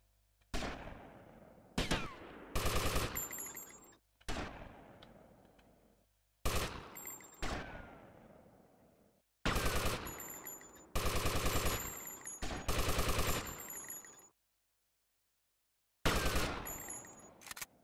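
Repeated bursts of automatic gunfire in Grand Theft Auto: Vice City, loud and close, coming in clusters of rapid shots separated by short silent gaps, with no talk over them.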